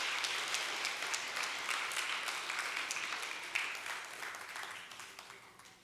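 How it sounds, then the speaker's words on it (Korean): A congregation at a Korean church Sunday service in Detroit claps to welcome and bless a baby, a quiet, even patter of many hands that slowly fades over several seconds. "한번 환영의 박수로 축복의 박수로 맞이하겠습니다."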